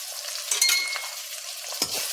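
Chopped onions with a pinch of salt stirred in hot oil in a pan, a soft continuous sizzle with a couple of scraping stirs of the spoon, close and quiet, no talking.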